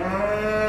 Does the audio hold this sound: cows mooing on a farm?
yes